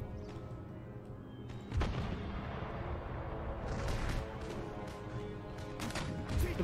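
Musket gunfire from Western European mercenaries in the video game Empire: Total War rumbles in a dense, continuous battle din, with sharp cracks and heavier booming volleys breaking through around the second and near the end.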